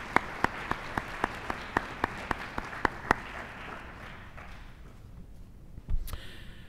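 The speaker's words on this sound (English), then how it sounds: "Let's have another round of applause for all the students" Slow, steady clapping for students at a high school engineering capstone presentation evening, roughly eleven distinct claps in even rhythm that stop after three seconds, leaving quiet room tone and a faint shuffle.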